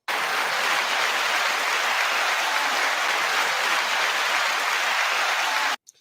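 Sustained burst of applause, dense and steady from many hands, lasting several seconds before cutting off abruptly, followed by a brief faint sound.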